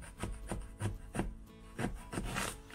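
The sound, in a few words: knife cutting Belgian endive (witloof) in two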